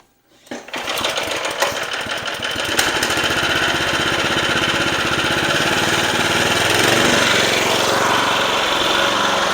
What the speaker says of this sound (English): Let's go ahead and start up the mower so you guys can hear it run and see the reel in action.